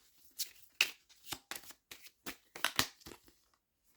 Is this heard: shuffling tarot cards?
yes